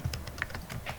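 Rapid typing on a computer keyboard, a quick irregular patter of soft key clicks, close but quiet, with no voices.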